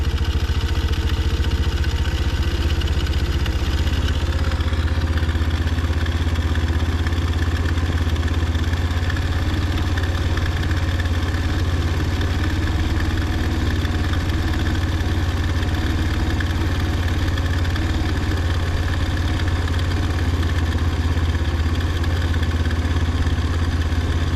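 A 2020 Boom Vader Gen 2 Grom-clone motorcycle with an upgraded carburetor idles steadily while being tuned, a loud, close, even engine drone with a faint mechanical clatter running throughout.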